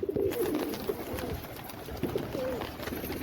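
Pigeons coo in low, throaty rolls at a few points against a steady background hum, close by and moderately loud.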